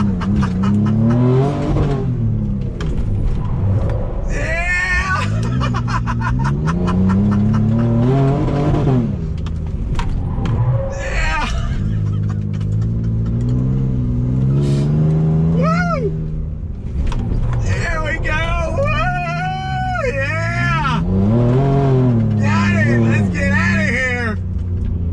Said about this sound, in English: drifting up with the drift stick